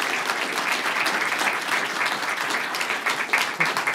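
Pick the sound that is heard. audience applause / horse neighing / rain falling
audience applause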